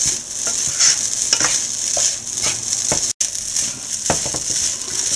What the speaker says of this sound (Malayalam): പൊടിച്ചു വെച്ച ചിക്കൻ ഇട്ട് കുറച്ച് ഗരം മസാലയും ചേർക്കുക